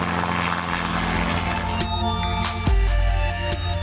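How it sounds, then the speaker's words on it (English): A mustering helicopter's engine drone with rapid rotor chopping, loud and close, shifting in pitch as it moves overhead in the Australian outback. "The helicopters that we use for mustering are very agile and nimble."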